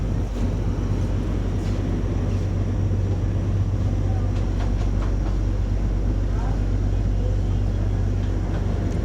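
A passenger launch boat's engine runs at full speed, giving a loud, steady low rumble and droning throb throughout, with wind buffeting the microphone and faint voices in the background.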